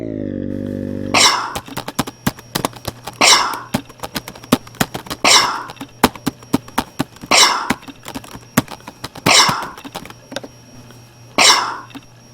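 Six sharp, explosive sneeze-like bursts arrive at an even rhythm about two seconds apart, loud and close over a steady low hum, with no speech.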